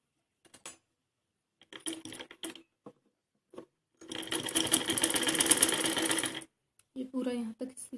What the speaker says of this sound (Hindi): पूरा यहाँ तक सिल के इसे तैयार कर लेंगे।